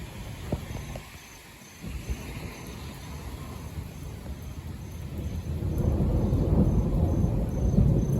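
Thunder rolls during a thunderstorm with strong winds in Dayton, a deep low rumble that builds and swells toward the end over a constant wash of rain and wind noise.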